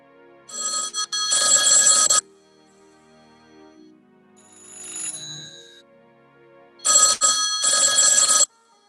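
A phone's ringtone from an app's fake incoming call plays loud and close in two bursts of bright, repeating electronic chimes, separated by a quiet stretch with a faint tone in between.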